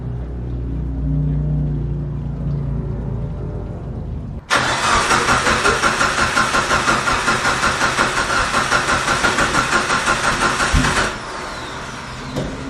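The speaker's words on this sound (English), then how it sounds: "Definitely for sure want to start up the car and then check for leaks." A Mitsubishi Evo 8 with a freshly upgraded fuel system cranks with a rhythmic starter whir for several seconds, then cuts off abruptly, its loud pulsing chug filling the garage with no talk.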